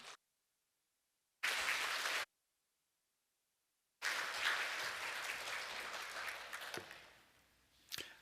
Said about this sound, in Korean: 마음을 담은 박수로 환영하면 좋겠습니다